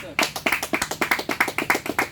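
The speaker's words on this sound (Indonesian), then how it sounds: "Tepuk tangan untuk semuanya." A classroom group claps together during a micro teaching session, about fifteen sharp, fairly regular hand claps close by, loud and distinct, briefly rising in a quick rhythmic burst.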